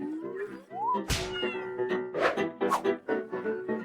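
A cat-like meow rises in pitch, followed by a sharp hit and several quick squeaky meowing calls, bright and close, in a cartoon setting about building a dollhouse.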